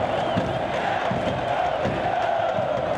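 Palmeiras football supporters chant and cheer together at the Sabiá stadium during a title celebration, a loud, steady crowd roar with rhythmic shouted pulses.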